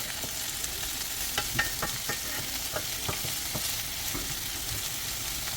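Mushrooms sauté in a pan with an even background sizzle, broken by a quick run of close stirring clicks and scrapes in the middle.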